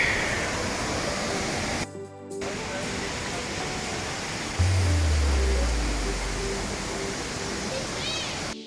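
Steady roaring rush of Torc Waterfall in Killarney National Park fills the clip, broadband and continuous, with a brief dropout and faint crowd chatter in the background.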